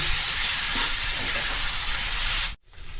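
A Bombay duck fish mixture stir-fries in a pan with a loud, continuous sizzle and hiss that cuts off abruptly near the end.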